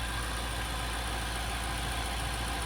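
Low, steady hum of a Nissan vehicle engine idling during an automatic transmission service, a quiet continuous drone with no pauses or talk.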